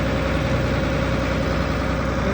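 A Ford 8000 tractor engine with a dual power transmission, running at a steady idle, a loud, constant low rumble with no change in pitch.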